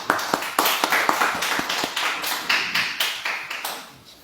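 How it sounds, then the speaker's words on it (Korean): A church congregation claps to welcome a guest pastor giving a special lecture, a loose burst of many hands with sharp overlapping slaps that thins out and fades toward the end, no talking. "박수로 맞이해주십시오"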